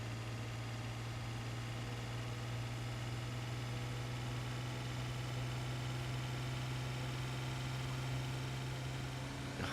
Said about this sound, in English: Listening to that engine whirring away like crazy.